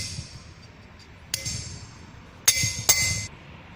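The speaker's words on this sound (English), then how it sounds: "For remove the extra metal after drill, we take a cold chisel and hammer" A hammer drives a cold chisel to cut away surplus metal left after drilling in a fitting shop, giving two or three sharp, bright metallic clinks spaced about a second apart over a faint background hum.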